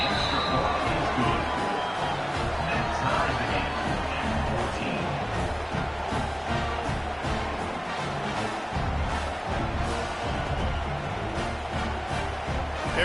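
A college football stadium crowd at Florida vs USF just after an extra point, a dense steady roar of many voices and scattered cheers filling the air continuously, with no clear peaks.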